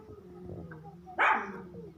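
Male Doberman puppies, one sharp bark rising out of faint background noise and quieter whines, close and brief.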